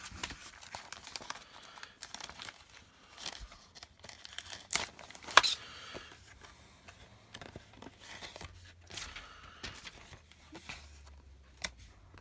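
Decal packaging for a Hobby Boss Me 262 A-1a model kit being cut open with a hobby knife, a long stretch of intermittent plastic crinkling, tearing and scraping, close and fairly quiet with occasional sharper snaps.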